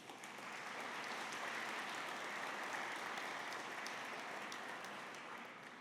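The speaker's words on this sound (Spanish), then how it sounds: "pido además un fuerte aplauso" Sustained applause from an audience at a legislative forum on bicameral parliaments, an even, rain-like wash of many clapping hands lasting nearly six seconds with a gentle swell and fade.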